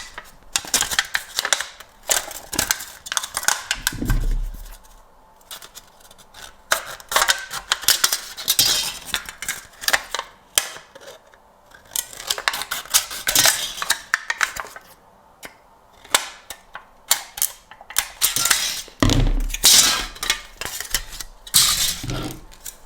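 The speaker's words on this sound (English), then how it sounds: "I'm just going to cut out some rough rectangles, and from there I'm going to create the propeller blades." Scissors cut rough rectangles from a thin sheet to make propeller blades for a DIY rubber band plane, giving close, irregular snipping and crinkling with clattery handling in bursts and short pauses.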